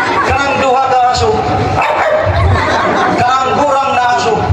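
Two voices beatbox barking dogs, a performing duo imitating a pair of dogs with quick yapping bursts amid chuckling and crowd chatter, loud and close throughout.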